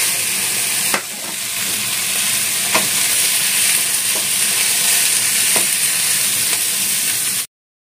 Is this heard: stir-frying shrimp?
yes